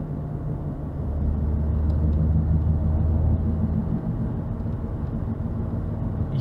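Vintage car driving fast on the road, a steady low engine rumble and road roar that swells slightly and holds, loud and close, with no talking.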